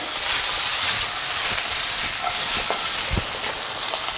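Mushrooms frying in butter with thyme and sage in a pan, a loud, steady sizzle and hiss with occasional small pops and stirring bumps, no one talking.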